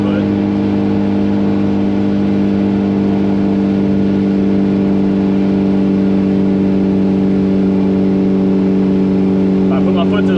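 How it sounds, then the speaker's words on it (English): 1994 Ford Ranger engine held at full throttle in fifth gear while climbing a hill, a loud, steady droning hum from inside the cab with no change in pitch, and a voice speaking over it. "So we're full throttle in 5th."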